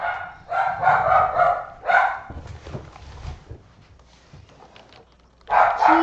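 A pet dog barks in several loud bursts early on, then whimpers and yips softly before barking loudly again at the end, heard indoors near a home gaming setup.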